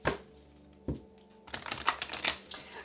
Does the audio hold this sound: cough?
no